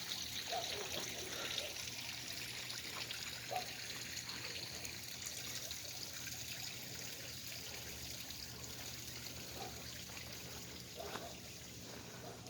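Garden fountain water trickling softly and continuously, faint and distant, with a low background hum.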